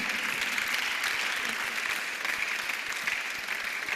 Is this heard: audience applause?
yes